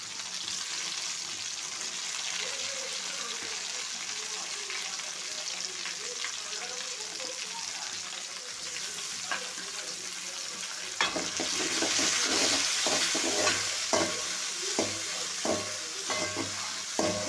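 Tomatoes and mint stems sizzle and fry steadily in a pan, with a busier crackle and occasional stirring clatter building in the second half.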